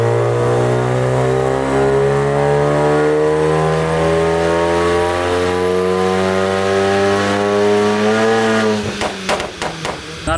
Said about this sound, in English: after about 3 dyno pulls, we started getting a bit of clutch slip